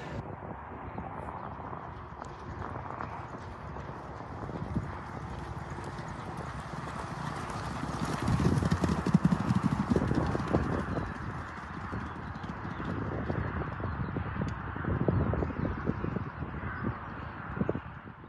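Racehorse Lir Speciale walks on the gallops after a workout, hooves clip-clopping steadily at a moderate distance, with faint birdsong and outdoor ambience behind.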